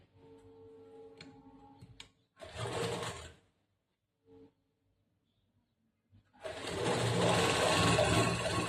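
A sewing machine stitches fabric underneath a princess-cut blouse piece in two bursts of rapid whirring, the second one longer, with faint ticks and clicks in the quiet gaps.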